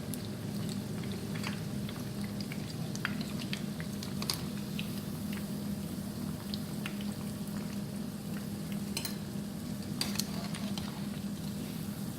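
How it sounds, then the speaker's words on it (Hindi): Shami kebabs half-frying in oil, a soft steady bubbling patter with scattered small pops, fairly quiet and continuous with no talk. "अभी हम इनको हाफ फ्राई करेंगे और इस तरह निकालते जाएंगे।"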